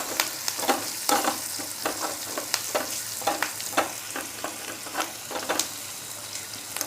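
Garlic leaves and curry leaves frying in a tadka for dal khichdi, a steady close sizzle broken by repeated sharp crackles and pops, with no talking.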